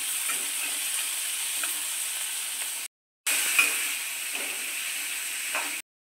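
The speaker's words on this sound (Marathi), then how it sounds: "आता कांदा टाकूया। कांदा छान लाल असा परतून घेऊया।" Onions frying in oil in a pan, a steady loud hissing sizzle heard close up, briefly cut to silence partway through and then resuming before ending abruptly, with no voices.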